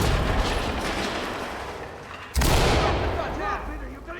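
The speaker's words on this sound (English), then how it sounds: "We're gonna go full explosive on this. Let's get a C2 on there." A C2 breaching charge detonates in the tactical shooter Ready or Not, a sudden loud blast cutting in partway through amid radio chatter and voices, followed by lingering rumble.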